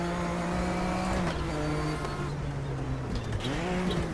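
A classic GTO race car drives the Zolder circuit in the RaceRoom sim, its engine droning steadily at high revs, dipping on a gear change and climbing again near the end, with faint tire noise.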